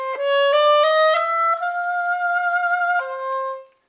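Solo oboe plays a short etude phrase, several separate notes followed by a long sustained tone that swells and then softens, ending on a final held note that fades out. No voices.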